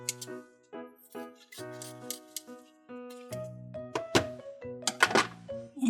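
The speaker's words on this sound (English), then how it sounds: "we're going to cut this open" Scissors snipping open the plastic packaging of a chocolate candy pen, a series of close, crisp cuts and small clicking handling noises over a soft musical background.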